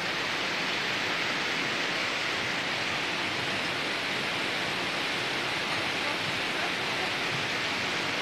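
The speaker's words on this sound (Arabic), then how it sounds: "هذا نهر خاشخ وهذا وادي أشتراك." The Khashkh river flows through a valley near Ashtarak in Armenia, giving a continuous, even rush of water that fills the scene without pause.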